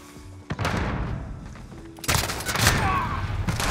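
Shotgun blasts and gunfire in Modern Warfare Search and Destroy, a loud burst, a pause, then a second heavy volley with dense crackling that rings out close and alone.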